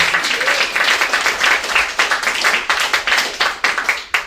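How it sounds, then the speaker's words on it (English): An audience at a live comedy music show claps steadily and densely for about four seconds, with a thinner spread of hands near the end. "Give yourselves a round of applause."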